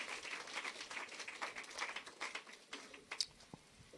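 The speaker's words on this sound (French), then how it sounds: "If you feel good, give me enough clap." A church congregation claps and applauds in a large room. The clapping is scattered and fairly faint, with a dense patter that thins into a few separate claps toward the end.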